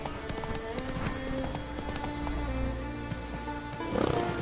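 Roach the horse gallops in the Witcher 3 video game, a steady run of hoofbeats under a dense game soundscape with music-like tones and a louder swell near the end.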